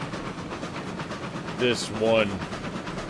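A steam train in RailRoads Online chugs along with a steady rolling rumble, a brief voice speaking over the middle of it.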